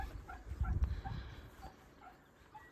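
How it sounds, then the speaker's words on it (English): Dogs bark and whimper out in open countryside fields below a Cotswolds hill: a few scattered, faint, distant yips and barks with quiet outdoor ambience between them. "I can hear dogs barking."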